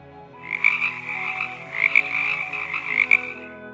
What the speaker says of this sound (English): The frog says ribbit ribbit.